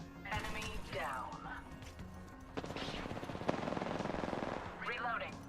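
Video game gunfire, rapid machine-gun bursts rattling in sequence alongside robotic in-game voice callouts, with a sustained stretch of fast repeated shots in the middle, moderately close.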